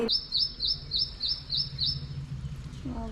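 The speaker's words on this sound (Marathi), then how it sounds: "पक्षी मस्त आहे." A bird chirps outdoors in a quick run of about seven bright, high tweets evenly spaced over two seconds, then falls quiet against a low background hum.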